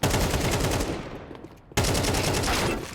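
Counter-Strike esports match gunfire during a pistol round cleanup, dense rapid shots ringing out continuously, dipping briefly before a sudden loud burst of sustained fire resumes.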